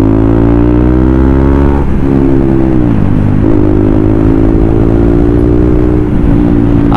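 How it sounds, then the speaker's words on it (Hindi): A KTM Duke 200 motorcycle fitted with a Hydra exhaust revs loud and close, its deep engine note rising and dropping through several throttle blips over a steady idle. "यहाँ पे हाइड्रा की जो आवाज़ है ना जो रेव कर रही है ना भाई एक नंबर"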